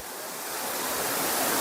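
Continuous heavy rush of the Aruvikkachal waterfall in Kottayam, a close, loud wash of crashing water that stays even from start to finish, with no talking.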